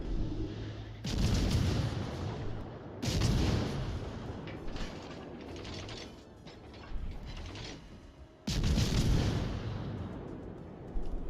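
Big naval guns of the battleship Ohio in World of Warships boom in three heavy salvos, each a loud, rumbling blast that decays slowly, with quieter mechanical clatter in between.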